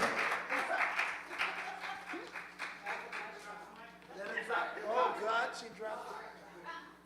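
A youth gathering audience gives a round of applause, moderately close clapping that rises and falls in waves, with voices mixed in over it.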